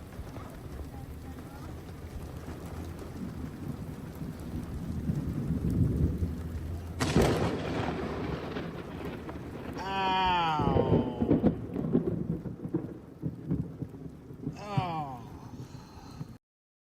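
Thunderstorm with rain in the Walmart parking lot at Iuka, Mississippi: steady rain hiss and rumbling thunder build until a sudden, very close lightning crack bursts out, followed by startled people shouting and talking.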